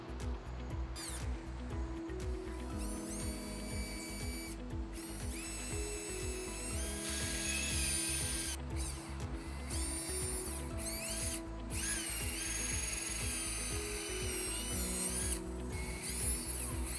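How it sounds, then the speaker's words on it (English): Power drill pre-drilling holes for a corner bracket on a side-mount deck post with aluminum handrail, a steady close mechanical whir with repeated louder grinding surges and brief stops, no talking. "Repeat the steps for marking and pre-drill for this corner bracket."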